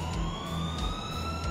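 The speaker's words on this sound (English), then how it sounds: "An ambulance arrived very quickly." An ambulance siren wails steadily in GTA 4 as the emergency vehicle arrives, its rising and falling tone loud and continuous over engine and street noise, with no talking.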